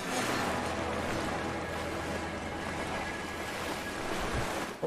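Water sloshing and splashing in Rise of the Tomb Raider, a steady broad rushing wash like surf or churning water, constant and fairly close with no speech.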